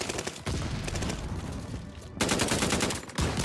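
Double-barrel shotgun fire in Call of Duty Vanguard: a quick run of rapid sharp reports over constant battlefield noise, one abrupt louder blast partway through, followed by further close shots.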